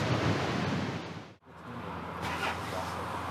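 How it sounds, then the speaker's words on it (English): Strong wind roars by the sea at Cook Strait, New Zealand, a loud, close, continuous rush buffeting the microphone, broken by one brief dip before the gusts return. "It's blowing like crazy here."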